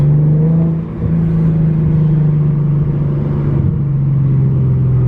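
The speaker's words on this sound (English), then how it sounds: "I don't know if y'all can hear that downshift." An Infiniti G37's exhaust drones in a steady low hum from inside the car while driving. Engine pitch shifts slightly during a downshift near the start, and there is no talk.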